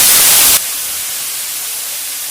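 Taro stalks hit hot oil tempering in a village-style kitchen and set off a loud, bright hiss that settles into a steady, quieter sizzle.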